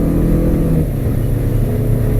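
A Hewescraft 22-foot motorboat engine drones steadily at about 25 mph, a loud low hum with water rushing beneath it.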